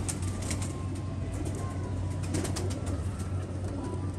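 Pigeons cooing steadily in a low, continuous murmur, with a faint flutter of wings and no clear talking over it.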